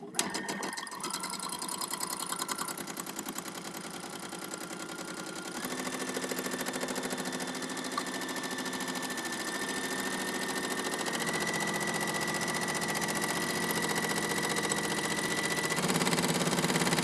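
A sewing machine stitches continuously during thread painting, with the needle set to stay down, giving a fast, steady mechanical whir and rapid needle ticking that shifts pitch slightly as the speed changes, close and alone.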